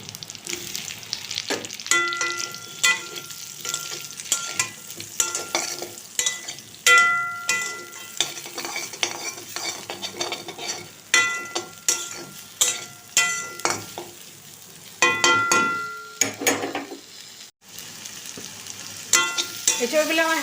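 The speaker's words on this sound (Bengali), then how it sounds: "দিয়ে বেসন আর গরম মশলা মাখানো এঁচড়গুলো দিয়ে দেব। এগুলো হালকা করে ভেজে নেব।" Besan and garam masala coated jackfruit pieces fry in hot oil with a continuous close sizzle, while a utensil stirs and scrapes the pan in repeated bursts.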